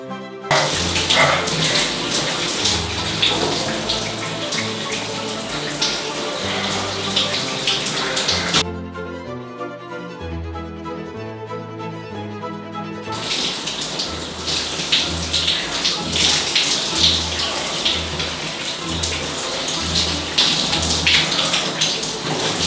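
Cold shower water runs steadily and loudly from start to end, with a brief quieter dip near the middle where tonal music carries on underneath.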